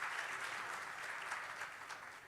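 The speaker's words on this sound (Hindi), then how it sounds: "आप सभी का जोरदार तालियों के साथ हम इस मंच पर स्वागत करते हैं" Audience applause fills the hall at an agricultural awards ceremony honouring farmers, a steady, even wash of many hands clapping that holds at a consistent level and fades slightly toward the end, with no voices over it.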